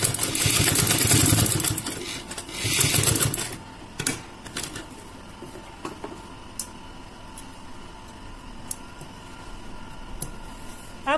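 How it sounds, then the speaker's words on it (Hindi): A sewing machine stitches a bell sleeve, running loudly for about three seconds in a rapid, continuous whir, then falls quiet apart from scattered sharp clicks and ticks. "और यहां से सीधे सिलाई कर देंगे।"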